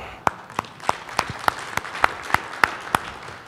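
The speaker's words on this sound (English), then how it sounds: "Everybody clap." A conference audience at a tech talk claps in a sparse, evenly spaced rhythm of about ten sharp claps, faint and roomy rather than full applause.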